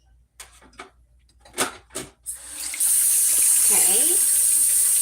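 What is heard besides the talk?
water running from a tap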